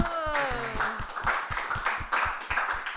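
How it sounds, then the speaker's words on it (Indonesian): A youth church audience claps in quick, fairly even beats, with a brief vocal or tonal sound at the start and faint voices mixed in. "tepuk tangan buat teman-teman sendiri ya"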